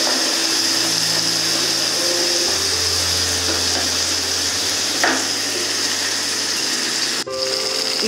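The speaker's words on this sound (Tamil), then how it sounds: "நம்ம வெங்காயம் தக்காளி எல்லாம் நல்லா வந்து மிக்ஸ் ஆகிற மாதிரி நல்லா நீங்கள் பரட்டி" Onion and tomato frying in a pan while being stirred, a constant loud sizzle under a low mechanical hum, with occasional faint scrapes and a short knock near the end.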